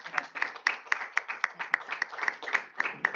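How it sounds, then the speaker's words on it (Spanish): Audience applause after a talk, heard as a small group clapping in a fairly regular, rhythmic pattern of sharp claps at a moderate distance, fairly quiet. "Pues le vamos a dar un aplauso"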